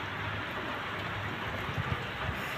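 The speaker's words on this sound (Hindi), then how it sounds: "आज हमारे यहाँ बारिश हो रही है, बहुत तेज़।" Heavy rain pours down steadily, a dense continuous hiss of water striking surfaces close by, with no voices over it.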